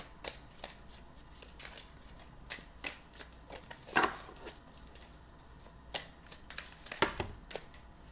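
Large oracle cards are shuffled by hand, giving close, crisp bursts of riffling and flapping at irregular intervals, some louder slaps standing out over quiet room tone.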